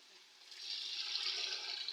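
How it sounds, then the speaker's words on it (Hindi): Water poured steadily into a cooking pot over browned chicken for haleem, a soft rushing splash that builds after a quiet start and holds at an even level for the rest of the moment. "अब मैं इसमें डालूंगी पानी।"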